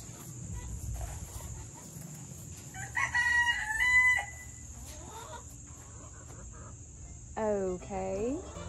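A rooster crows twice near a chicken coop on a homestead, the first call mid-clip and a second, shriller one near the end, over a steady high insect drone and low rumble.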